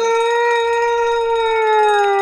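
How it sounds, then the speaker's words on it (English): A steady, wailing air raid siren in a video game drones loudly and continuously, its pitch sliding slightly downward, with no voices. "The emergency siren's going off."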